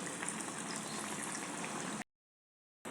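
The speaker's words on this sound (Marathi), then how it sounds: "मिडियम गॅसवरती हे व्यवस्थित तळून घ्यायचं" Bread pakora frying in hot oil on a medium gas flame, a steady dense sizzle and bubbling held close and level for two seconds before cutting to silence, then a brief return of the sizzle.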